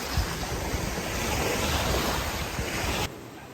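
Waves wash against the rocky Dead Sea shore at sunset, a broad continuous rush with wind buffeting the microphone, stopping abruptly near the end.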